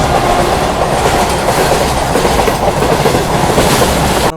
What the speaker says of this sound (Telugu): ఇక్కడ మనకి గూడ్స్ ట్రైన్ అయితే ఫుల్ స్వింగ్ లో అయితే జింగ్ అవుతుంది.